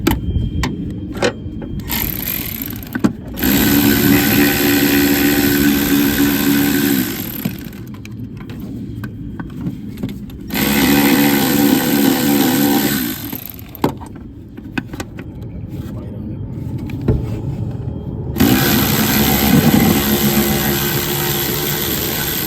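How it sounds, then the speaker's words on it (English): A cordless electric ratchet with a long 10 mm socket loosens a bulkhead connector bolt during dashboard removal on a 1994-1997 MN12 car, buzzing in three separate bursts of several seconds each with pauses between. "I'm going to come in here with a long 10 and my electric ratchet"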